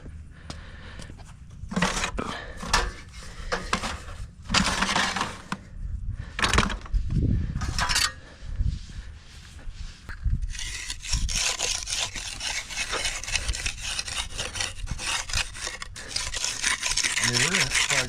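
A concrete rub on stamped concrete steps: repeated scraping and grinding strokes in irregular bursts, then a steadier, louder rasping wash in the second half, close by and with no speech.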